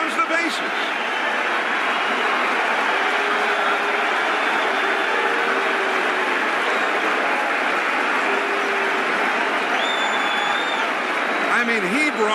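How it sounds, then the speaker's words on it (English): Massive Yankee Stadium crowd roaring and cheering as Barry Bonds rounds the bases after a home run, a sustained dense wall of cheers and applause with a few whistles near the end. "listen to the Yankee Stadium crowd as Bonds rounds the bases"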